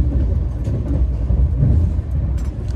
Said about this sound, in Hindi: 130 गाड़ी नॉन स्टॉप चल रही है ट्रैक साउंड के साथ